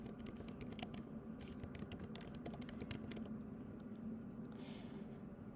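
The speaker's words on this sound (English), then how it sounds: "I'm going to go ahead and type my supervisor's contact information here." Steady typing on a computer keyboard, entering contact details into an online form, with rapid clustered key clicks over a constant low room hum, fairly quiet and with no talking.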